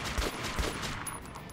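Gunfire in the shooter Metro: Last Light: two sharp, heavy shots crack out in quick succession, loud and close, followed by a brief ringing tail.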